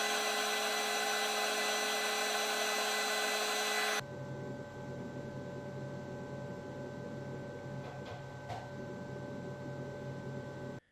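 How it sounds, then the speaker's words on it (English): An xTool P2 CO2 laser cutter engraves fine text into a small piece of wood, giving a steady mechanical whir and hum that shifts to a lower, busier drone partway through, with no talk over it. "I'm going to see just how fine the P2 can engrave text"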